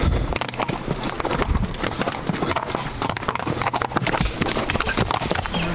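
Horses' hooves clip-clop steadily along a mountain trail ride near a chapel on a high plateau, several animals walking close and loud with continuous overlapping hoofbeats throughout.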